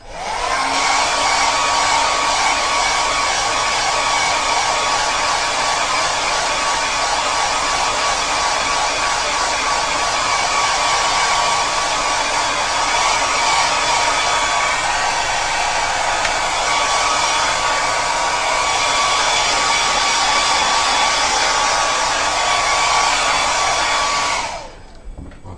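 A hair dryer blows steadily and loudly on watercolour crayon artwork for about twenty-five seconds, a constant close whine-and-rush that cuts off abruptly at the end.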